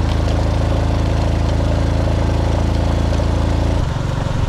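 A motorcycle engine idles loudly and close by in a steady, even chug, then the engine note shifts and drops just before the end.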